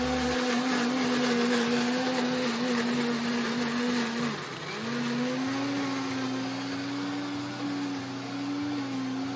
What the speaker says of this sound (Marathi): आपण आता मिक्सर मध्ये वाटून घेऊया